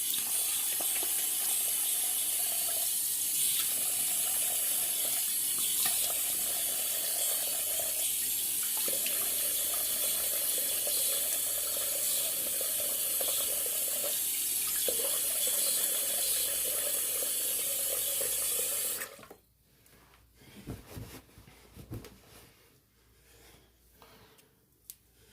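A bathroom tap runs steadily for about twenty seconds, a loud, even rush of water while a shaving brush is wetted, then shuts off, leaving light clinks and handling sounds.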